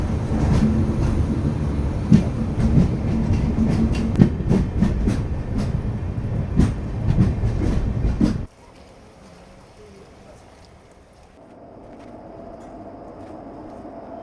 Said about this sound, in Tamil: புதுச்சேரி ரயில்வே ஸ்டேஷனுக்குள்ளே அப்படியே அமைதியாக வந்து அரைவ் ஆகிட்டு இருக்கோங்க.